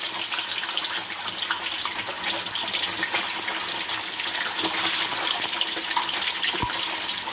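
Tap water runs steadily and fairly loud into a sink while watercress is rinsed clean, a continuous splashing stream with one small knock near the end.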